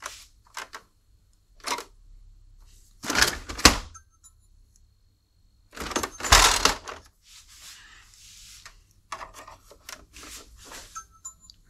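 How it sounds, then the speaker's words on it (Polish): The lid of an HP DeskJet Plus Ink Advantage 6075 printer is handled and closed, giving several plastic rubs, clicks and a couple of louder knocks scattered across the stretch, with quiet handling noise between. "Czekajcie, zamknę tą klapkę."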